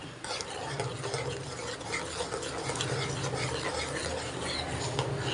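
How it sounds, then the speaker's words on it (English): Besan kadhi for banana flower pakoda kadhi being stirred in a pan, with repeated close scraping and clinking of a spoon against the pan under a low bubbling background, no voices. "we have to stir it, otherwise the besan will get stick to the bottom of the pan."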